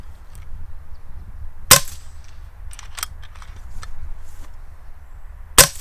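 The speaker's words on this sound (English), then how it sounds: "So we'll just show you the firing cycle." An FX Maverick bullpup PCP air rifle cycles, with two sharp, loud discharge cracks a few seconds apart and softer metallic cocking clicks and clacks between them, close up.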